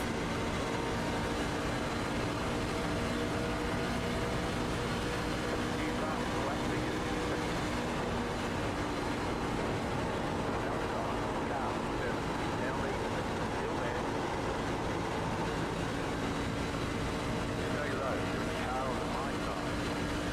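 A racing truck engine from the iRacing Craftsman Truck Series at Atlanta drones loudly and continuously for about twenty seconds, thick with engine noise, while a voice talks over it.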